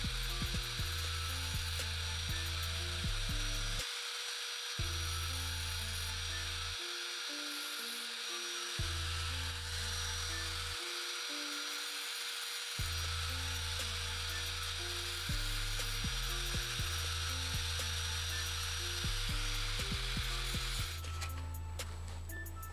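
A rotary tool scrubs the surface of a battery before soldering, a steady high buzzing grind that cuts in and out in bursts, with the motor note shifting under load.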